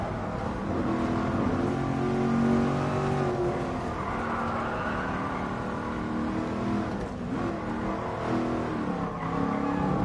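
A Mercedes-AMG GT Black Series on the Nürburgring, its engine pulling hard uphill under full throttle, a loud, sustained roar with rising and shifting pitch, heard from inside the car without speech.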